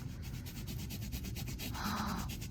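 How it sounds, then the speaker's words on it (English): A microfiber rag rubs a painted surface in quick repeated back-and-forth strokes, a steady close scrubbing swish with no talking. "I'm using the microfiber rag because I don't want the paint to peel"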